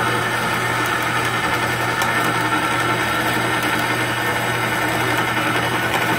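A $200 Harbor Freight bandsaw cuts water-jetted Damascus steel pendants, a steady, loud motor drone with a constant low hum and no break over several seconds.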